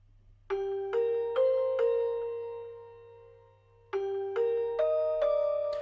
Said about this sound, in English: I got some bells from Expand